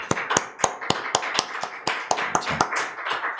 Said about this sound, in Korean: 모두에게 감사의 박수를 보냅니다